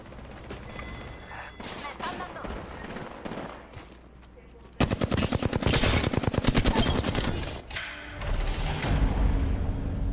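Gunfire in Apex Legends: scattered shots at first, then a loud rapid burst of automatic fire, followed by more shooting and game effects, while a person talks over parts of it.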